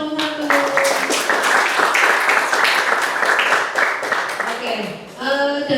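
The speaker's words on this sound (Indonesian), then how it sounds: "Beri tepuk tangan kelompok 1" Classroom applause for a student group, a short burst of lively clapping from a small group of people, with voices speaking before and after it.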